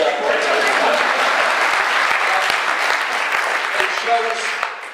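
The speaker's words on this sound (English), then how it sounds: "You're supposed to applaud that one." Sustained applause from a political rally audience at the Ageas Bowl in Southampton, a dense, steady wash of many hands clapping that tapers slightly at the end, with a few voices mixed in.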